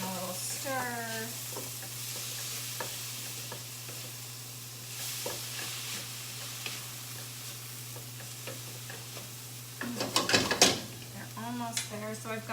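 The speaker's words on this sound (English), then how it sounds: "let me just check my veggies, give them a little stir." Vegetables sizzle softly in a pan and are stirred now and then, with utensil scrapes and clinks building to a louder clatter near the end over a steady low kitchen hum; a voice is briefly heard at the start.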